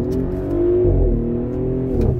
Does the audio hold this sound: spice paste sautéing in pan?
no